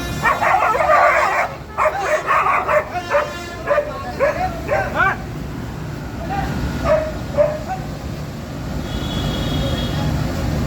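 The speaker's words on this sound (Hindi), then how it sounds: "ये यहाँ पे बहुत ही भयंकर कुत्तों की लड़ाई हो रही है।" Dogs fighting at a CNG filling station bark and yelp loudly in rapid, overlapping bursts, then bark more sporadically over a steady background roar.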